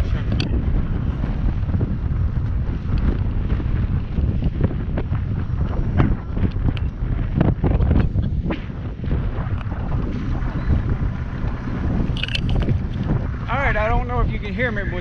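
Steady wind buffets the microphone over a boat's low rumble on the water off the coast of Jamaica, with a voice breaking in briefly near the end.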